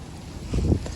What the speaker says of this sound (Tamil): நல்லா காற்றடிக்கி பாருங்கள், செம்ம காற்றடிக்கி.